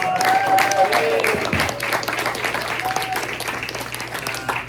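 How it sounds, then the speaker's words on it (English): Applause from a luncheon crowd at a sports press event, many hands clapping steadily and fairly close, with a few faint voices mixed in as the clapping slowly tapers. "One more round of applause for Bishop Basketball."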